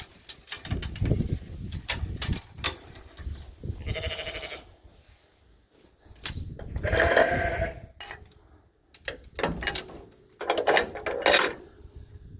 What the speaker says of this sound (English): We're just taking turns with the rams and letting ewes out for a while.